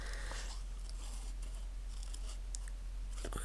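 Scissors cutting paper for a scrapbook journal, faint, scattered snips and rustles heard close over a constant low hum, with no voices.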